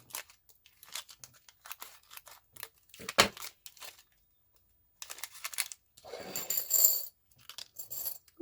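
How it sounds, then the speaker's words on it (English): Scissors snip through a package of small heart-shaped jewelry findings, a run of quick crisp cuts with crinkling plastic and rustling, sounding close and clear with short pauses between bursts. "I'm going to have to cut these open"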